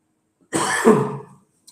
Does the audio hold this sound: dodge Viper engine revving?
no